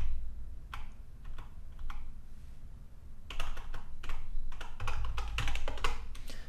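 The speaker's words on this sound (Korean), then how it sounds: "dev 하고 엔터를 치면" Rapid bursts of keystrokes on a computer keyboard while a MySQL command is typed, ending with a press of the enter key; close, crisp clicks in uneven clusters over a quiet room.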